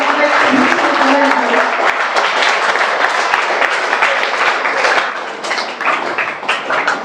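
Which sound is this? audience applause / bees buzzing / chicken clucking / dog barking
audience applause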